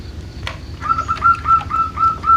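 A zebra dove calls nearby with a run of short, high, repeated whistled notes in a quick rhythm, over a low background hum.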